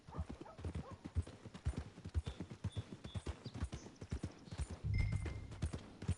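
Horse hooves clip-clop in the Red Dead Redemption 2 video game, a steady close rhythm of hollow knocks with a brief snort partway through.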